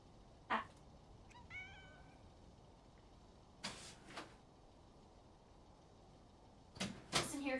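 A fat cat gives a few short, faint meows spaced apart against a steady background hiss, with brief sharper bursts near the end.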